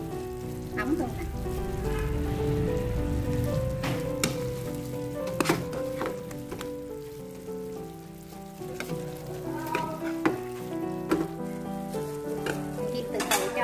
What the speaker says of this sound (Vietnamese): Chiên từ từ cho cái nước mắm nó thấm vô cánh gà, nó sẽ được ngon hơn.